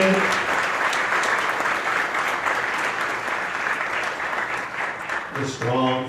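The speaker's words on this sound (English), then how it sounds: "Let's have another round of applause for the Robinson" Warm audience applause at a live community presentation honoring a family of women, sustained, dense clapping from a crowd throughout, briefly overlapped by a voice near the start and end.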